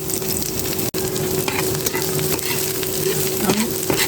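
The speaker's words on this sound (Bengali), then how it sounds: "আমি অল্প মিডিয়াম তেল পেঁয়াজটা আগে ভেজে নেব" Onion frying in a moderate amount of oil for a Bengali prawn, potato and masoor dal dish gives a steady, close sizzle throughout, with occasional stirring scrapes and no talk.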